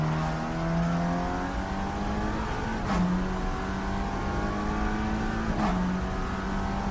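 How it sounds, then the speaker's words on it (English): A GT3 race car engine drones steadily with harmonic whine in a sim racing game, pitch shifting twice as cars pass close by, continuous and fairly loud with no talk. "There was a GT3 behind me."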